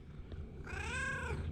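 A house cat gives a single drawn-out meow with a clear rising and falling pitch, close and fairly loud over a low background hum.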